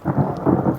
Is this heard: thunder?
yes